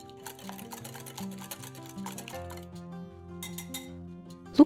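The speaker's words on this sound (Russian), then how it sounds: "Все перемешиваем венчиком до однородности." Eggs and mayonnaise whisked in a bowl, a quick run of light metallic clicks and taps against the bowl with a faint ringing tone underneath, ending on one sharper clink.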